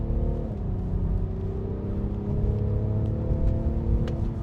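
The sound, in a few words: BMW M550d car accelerating fast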